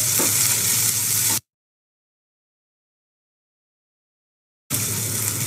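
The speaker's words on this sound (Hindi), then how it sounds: "Half table spoon garlic paste डालेंगे, half table spoon ginger paste डालेंगे, एक मिनट सौते कर लेंगे।" Garlic and ginger paste sautéing in a hot pan over browned onions, giving a steady broadband sizzle for about a second and a half, then silence, then the sizzle resuming near the end.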